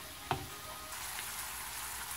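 Ground meat browns in a pan for burrito filling, giving a steady, faint sizzle throughout with one brief sharp knock near the start; no one talks.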